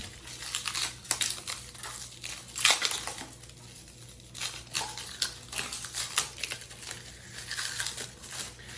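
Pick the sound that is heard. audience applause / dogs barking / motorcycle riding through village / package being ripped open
package being ripped open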